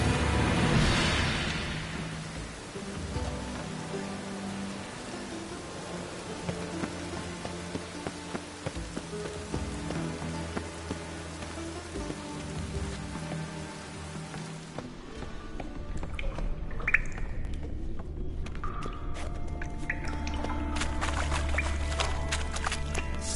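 Steady rain in the video game The Witcher 3: Wild Hunt patters across surfaces throughout, with a tonal musical bed underneath; the wash thins briefly midway before heavier drops return.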